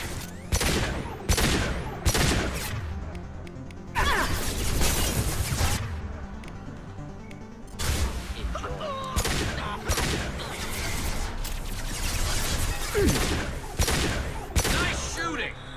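Mass Effect battle gunfire: repeated loud bursts of rapid weapon fire in clustered volleys with short gaps, punctuated by sharp cracks and impacts, close and dense throughout the fight.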